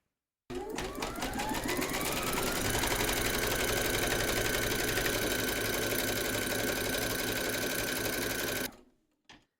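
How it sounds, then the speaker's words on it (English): An embroidery machine stitching a securing round on a hooped quilting project, running as a loud, continuous rapid mechanical chatter that winds up at the start and stops sharply near the end. "Pop your hoop into your machine and stitch round number 3 to secure it."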